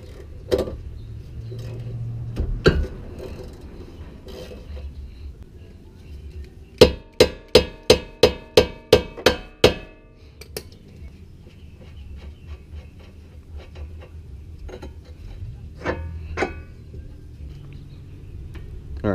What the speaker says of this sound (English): Next, we're going to take off this tie rod end. It's going to be a 19 millimeter.